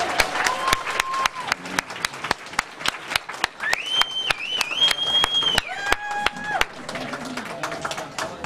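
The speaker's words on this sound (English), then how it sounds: "Thank you guys for clapping for us." Audience applause at an annual meeting for peace, justice and ecology, sharp rhythmic claps sustained throughout, mixed with whoops and cheering voices, loud and close.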